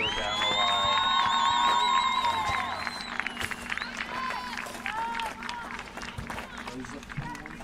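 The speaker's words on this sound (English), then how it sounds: "let's have one more round of applause for our 2024 senior women's soccer team members" Applause for a 2024 senior women's college soccer team, a distant crowd clapping and cheering at a stadium, faint and diffuse, with whoops rising and a voice talking over it.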